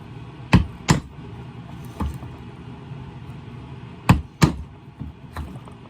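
A steel chisel is struck with a mallet around the edge of a wet-formed leather pouch, giving sharp single and paired knocks spaced a second or two apart over a quiet room.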